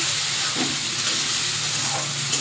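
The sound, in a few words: chopped tomato frying with onions in pan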